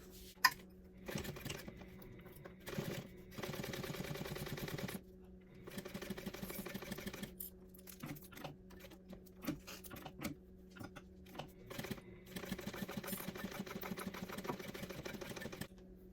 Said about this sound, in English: now I want to sew from the corner edge right here all the way down